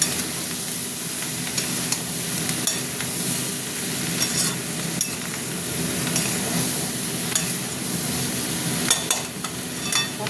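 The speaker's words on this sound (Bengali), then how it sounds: "এবার এটা ভাজা হতে হবে, হলুদের গন্ধটা কেটে গেলে জল দেবো।" Spices with turmeric fry and sizzle steadily in a pan for several seconds, with repeated scraping stir strokes close by and no voices.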